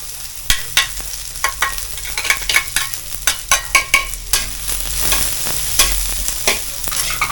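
Garlic sizzles in hot oil in a pan for Filipino escabeche while a utensil stirs it, a steady frying hiss punctuated by rhythmic scraping knocks, close and alone without voices.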